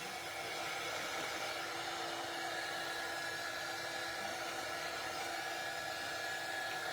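A hair dryer blowing steadily to dry paint on mason jar inserts, a continuous close whirring hum that stays level throughout with no voices.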